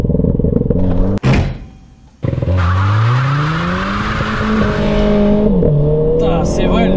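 Renault Clio 4 RS with RS16 bodykit doing a launch-control start: revs held high, a sharp thunk and cut, then hard acceleration with rising engine tone through gear changes, loud and close inside the cabin.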